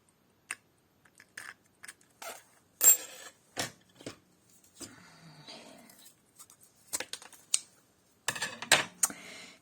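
Large scissors snip through paper in a quiet craft setting, a scattered run of short, close crisp cuts with pauses between them and a denser burst of snipping near the end.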